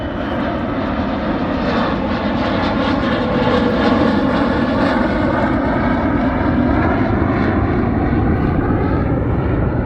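A fighter jet roars loud and steady overhead during an Oshkosh airshow, its engine noise holding for about ten seconds with no voices.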